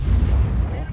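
A tank cannon shot in World of Tanks, a heavy low boom with a rumbling tail lasting about a second, loud and close.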